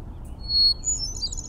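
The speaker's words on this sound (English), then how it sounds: "some people think that the hermit thrush has one of the most beautiful songs in the forest" A hermit thrush sings in the forest, with a clear, flute-like phrase followed by a few higher, fluttering notes over a soft low background rumble.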